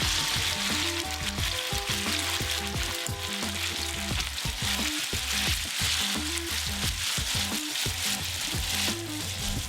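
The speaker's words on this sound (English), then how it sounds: "Add pasta to pan of oil and garlic and stir until mixed." Pasta is stirred through a pan of sizzling oil and garlic, a steady close hiss running the whole time beneath a melodic, tonal background sound.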